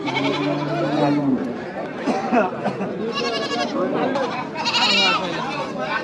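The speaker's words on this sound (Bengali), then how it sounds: "গরুহাটের পাশেই রয়েছে ছাগল ভেড়া হাটি ছোট ছোট নানান রকমের ছাগল উঠেছে" Goats bleat repeatedly at the goat and sheep section of a busy riverside market in Chilmari, Bangladesh, their wavering cries rising over steady crowd chatter and nearby voices.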